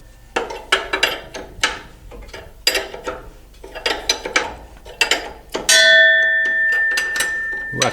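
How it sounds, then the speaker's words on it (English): Metal strikes ring out against the drive line of a 1968 Chevy C10 truck, a series of sharp clanks in irregular bursts, then a louder hit leaves a sustained metallic ring before more knocks follow. "Whack the drive line a couple times."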